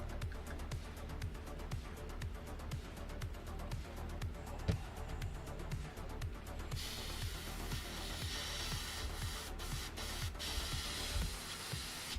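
An airbrush sprays paint onto a Hasegawa Ma.K/SF3D Camel model kit, a close, steady hiss with rapid sputtering pulses that turn smoother partway through.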